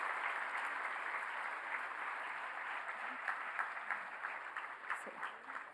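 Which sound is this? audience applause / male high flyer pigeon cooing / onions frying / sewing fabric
audience applause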